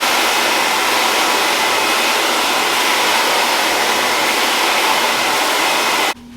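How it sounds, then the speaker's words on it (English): A blow dryer drying hair roars steadily, loud and close, a constant broadband whoosh that cuts off abruptly near the end, leaving a faint low hum. "So real quick, I blow dry my hair."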